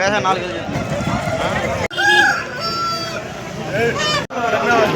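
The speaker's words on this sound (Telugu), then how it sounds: "మీరు చూస్తున్న ఈ మూడు పుంజులు" Roosters crow loudly and close at a busy poultry market, several overlapping calls with clucking, while people talk nearby throughout.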